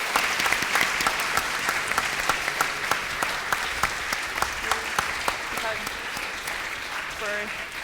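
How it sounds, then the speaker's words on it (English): Sustained audience applause for guests at a civic event on 21st century citizenship, a dense steady patter of many hands at moderate level with a few sharper claps standing out, faint voices mixed in near the end. "let's give a round of applause to all our guests."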